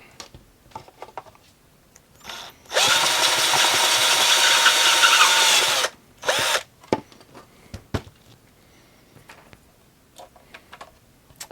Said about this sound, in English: While we've got the drill out